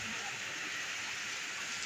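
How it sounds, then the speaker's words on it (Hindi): Heavy rain pours steadily over streets of Sahiwal city, a dense continuous hiss with no pauses, close and fairly loud throughout. "1 घंटा हो गया बारिश शुरू हुए हुए"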